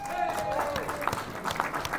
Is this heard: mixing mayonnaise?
no